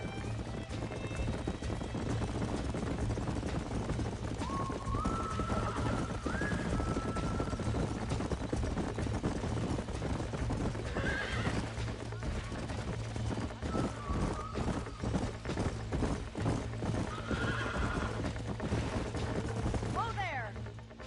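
Horses in the game Red Dead Redemption gallop with steady hoofbeats under a low rumbling drone, and several whinnies rise above them at intervals while a voice speaks over the action.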